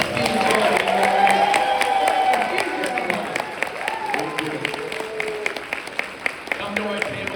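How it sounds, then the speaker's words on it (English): A comic convention crowd bursts into applause and cheers for a few seconds, then the clapping thins into scattered claps as voices talk over the hall's murmur. "You guys, can you give a huge round of applause here?"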